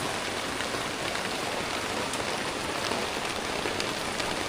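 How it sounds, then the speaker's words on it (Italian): Evening rain on the Caribbean coast of Colombia, a steady dense hiss of drops pattering on surfaces, continuous and fairly loud with no voices. "Anche stasera è tornata la pioggia,"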